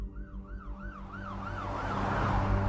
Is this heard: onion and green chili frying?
no